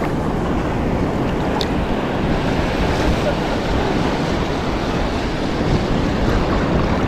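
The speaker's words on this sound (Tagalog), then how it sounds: "malaki ang alon." Big ocean waves surge and roar continuously around a small boat, a dense, loud wash of water mixed with heavy wind buffeting against the microphone.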